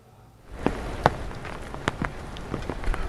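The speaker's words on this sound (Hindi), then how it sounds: "लगातार बारिश हो रही है" Continuous rain falling in Shimla, a steady hiss with scattered sharper drops and splashes on a surface. It starts after a brief quiet moment and stays moderately loud and close, with no speech.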